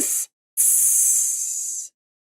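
A voice imitates a sizzling hiss with two breathy "tss" bursts, a short one and then a longer drawn-out one, loud and close with no other sound.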